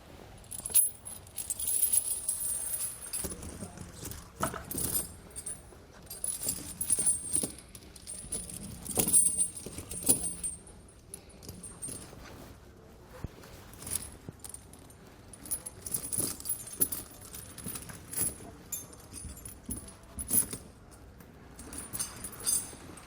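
Titan metal snow tire chains for wide-base tires jangling and clinking repeatedly as they are draped over a tire, a faint, scattered metallic rattle that comes and goes with no speech.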